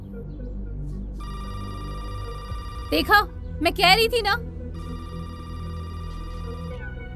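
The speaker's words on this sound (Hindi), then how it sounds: "अब क्या कोई फोन उठाएगा?" A telephone rings with a steady electronic trill, pausing while someone speaks briefly, then resuming clearly and close.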